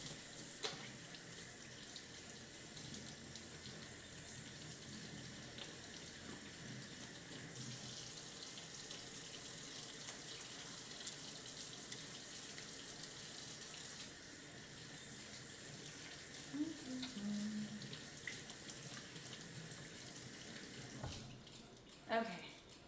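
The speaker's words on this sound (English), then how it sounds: "Let me wash my hands." Water runs steadily from a kitchen tap during handwashing, a constant faint hiss and splash that continues throughout, with brief clatters near the end as it is turned off.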